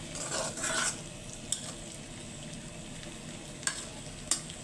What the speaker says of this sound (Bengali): টমেটো দিছি টমেটো একবারে গলে গেছে করলা ভাজিটা হয়ে গেছে